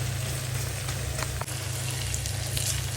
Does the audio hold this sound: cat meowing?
no